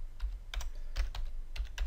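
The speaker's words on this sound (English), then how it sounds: "I could start typing in some information" Rapid keystrokes on a computer keyboard while entering data into an Access 2013 database form, arriving in short clustered bursts of clicks with brief pauses, close and clear with no talking.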